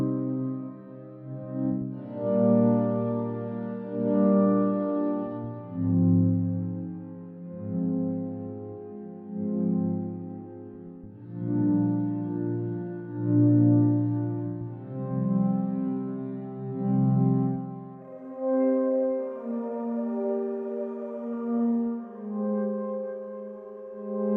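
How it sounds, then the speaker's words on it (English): The Ambient Intrigue patch on Logic Pro X's Sculpture synthesizer plays slow, swelling sustained chords with a soft, warm, pulsing tone, rising and falling in gentle waves before a higher, thinner passage near the end. "So what I've done is to open Scupture and to load this sound called Ambient Intrigue"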